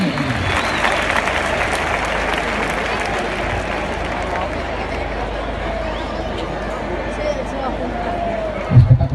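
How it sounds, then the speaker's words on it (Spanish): Crowd clapping in rhythm at a Valencia bullring during a recortes festival for the day of bullfighting, steady dense applause filling the whole stretch with a brief louder burst near the end. "pide palmas al público de Valencia"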